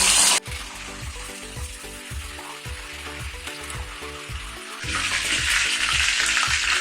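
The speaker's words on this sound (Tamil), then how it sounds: "இப்போ மீல் மேக்கர் பொறிஞ்சிச்சு நம்ம எடுத்துடலாம்" Soya chunks (meal maker) frying in hot oil for a gravy, a steady crackling sizzle with rhythmic stirring and scraping, which swells to a brighter, louder hiss near the end.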